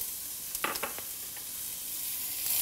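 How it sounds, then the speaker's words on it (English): Onion, garlic and thyme sautéing in an oiled pan, with a steady soft sizzle under a few brief stirring scrapes near the start. "We're gonna saute this for about 3 minutes until our onions begin to soften."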